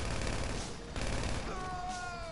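Gunfire in GTA Online, a dense continuous spray of shots from a bike ride, steady and close throughout with a brief dip midway and a faint tonal whine at the end.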